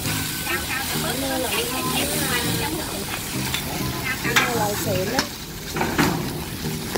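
A giant slab of premium American beef sizzles and spits loudly on a grill, a continuous close frying hiss with crackles throughout, while voices talk over it.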